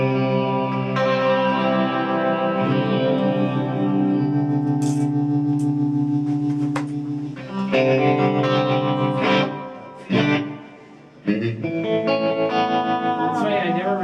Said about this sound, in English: Basically just taking the volume and dipping it up and down. Relatively simple effect.